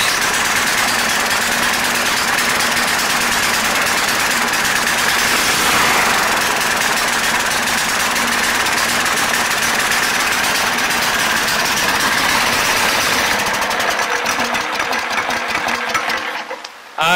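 A small engine on a homemade go-kart runs with its wheel spinning freely, giving a loud, buzzing, steady drone with a fast rattling texture that cuts out abruptly near the end.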